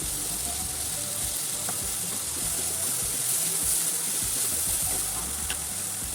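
Onions with salt sauté in an oily pan for a potato stir-fry, giving a continuous even hiss of frying at close range with only faint scattered crackles throughout.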